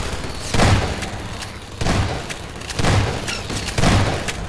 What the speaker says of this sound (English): Shotgun is my favorite antlion killing weapon.